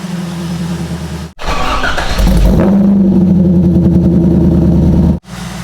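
C5 Corvette with long tube headers and a catless X-pipe, heard starting up after a brief cranking, then settling into a loud, rumbling idle. The engine cuts off abruptly near the end.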